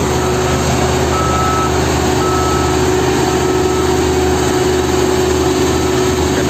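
A vibratory roller, a heavy compactor machine, maneuvers to park in a tight space, its engine running steadily and loud with a constant drone and faint tonal whine, no talk over it.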